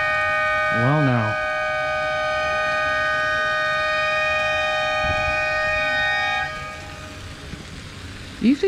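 A loud outdoor warning siren at a resort pool in Orlando, Florida wails with a steady tone and an early warble during a thunderstorm, then cuts off, leaving quiet background and a brief thump.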